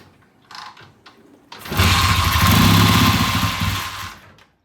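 A Triumph motorcycle with a hard-starting engine is cranked with short bursts, then catches and roars loudly at high revs for a couple of seconds before winding down and cutting off.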